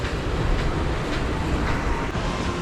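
Walt Disney World monorail train running, a steady loud broadband rumble and rushing roar throughout with no pauses, heard from on board.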